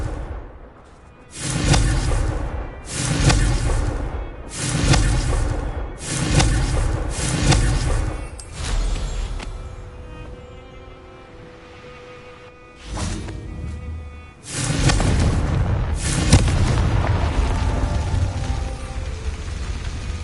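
Confringo fire spells in Hogwarts Legacy go off in a fast rhythmic series of punchy blasts, followed by a lull and then several more heavy booms with a rolling tail.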